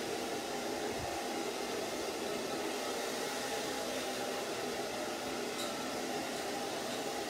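A hair dryer blows steadily close by while short layered hair is dried after a haircut, a constant loud whooshing hum with no talking.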